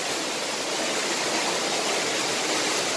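Water rushes down through a rock cave in the north of France, a dense continuous roar like a waterfall filling the space, steady and loud throughout.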